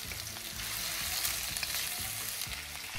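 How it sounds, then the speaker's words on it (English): Chayote stir-frying in a hot pan for pancit habhab, a steady close sizzle with rhythmic scraping of the stirring utensil and no talking. "Put the chayote and stir it in the pan."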